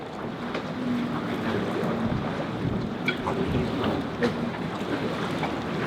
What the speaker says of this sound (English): The wind has really, it hasn't really died down, but it's now coming from a different angle.